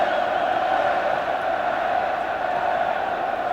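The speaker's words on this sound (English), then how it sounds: "And listen as the crowd prepare to welcome the Welsh side." A rugby stadium crowd at Cardiff, gathered for Wales v Scotland in the 1988 Five Nations, sends up a steady, dense roar that holds at an even level throughout, with no distinct voices standing out.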